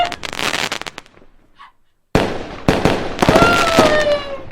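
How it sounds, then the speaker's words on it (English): Fireworks sound effect played on a radio show, a dense crackling barrage of bangs and pops that drops out briefly, then returns loud with whistling rockets rising over the crackle. "Oh, quick, fade the fireworks up."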